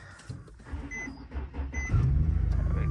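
An Infiniti G37 AWD engine cranks and fires up in snowy conditions, building from quiet clicks and beeps into a loud, steady idle rumble over the last second.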